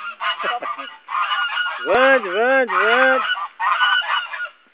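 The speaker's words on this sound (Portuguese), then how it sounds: "olha lá os gansos" Several geese on a farm honk loudly and close by in repeated overlapping calls, with brief gaps between bursts, while a person says a word.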